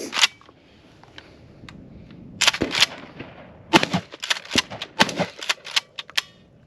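A Keltec KSG25 pump shotgun fires a rapid string of sharp, cracking reports, first a few sparse ones and then a denser burst of shots and mechanical clacks, heard from some distance.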